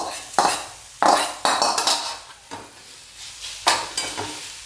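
Grated roasted radish with turmeric being stir-fried in a pan for a quick traditional village vegetable dish, several sharp scrapes and clanks of a spatula against the pan in an irregular rhythm, with a soft sizzle between strokes.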